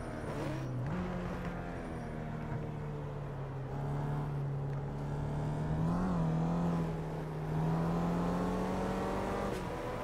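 A Renault Megane race car engine in the Project Cars video game drones loudly and continuously, its pitch climbing through the gears with brief dips at shifts, heard alone without talk.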